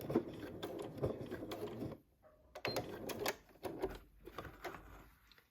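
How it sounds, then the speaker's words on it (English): A sewing machine whirs in short rapid bursts of stitching on a fabric rope bowl, including a few reverse stitches, pausing briefly in the middle, close and fairly quiet. "Now I'm going backwards, just a couple of stitches, and then end the stitch."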